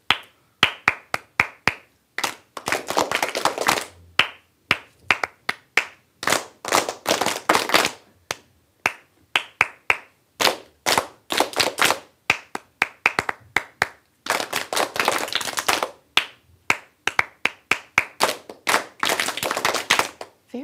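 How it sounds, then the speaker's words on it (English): Sharp hand claps beat out short rhythmic patterns in repeated groups, one rhythm clapped and then echoed back, loud and close with brief silent gaps between the phrases. "I'm going to clap a rhythm. You clap it back."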